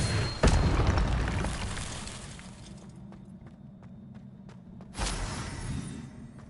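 Incendio fire spell blasts in Hogwarts Legacy: a loud, sharp burst near the start, then a rumbling tail with scattered ticks, and a second strong burst about five seconds in.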